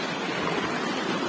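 A mountain stream in Arunachal pours in a dense, even rush of flowing water, loud and near, with no speech over it.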